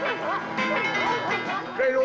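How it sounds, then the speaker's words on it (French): Several dogs bark in quick, overlapping yaps in a cartoon chase scene, loud and close, with a voice speaking over them. "Écoute, ils ont lâché les chiens."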